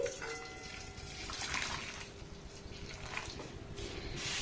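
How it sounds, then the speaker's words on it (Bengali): Hot water pours into a cooking pot in a soft, continuous gushing stream that swells and eases over a few seconds, heard close and alone. "এখানে আমি গরম জল দিয়ে দিচ্ছি"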